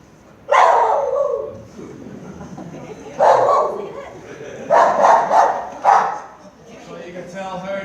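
Dogs trained to detect American foulbrood in beehives give several loud, short barks in separate bursts, with a faint background hum between them.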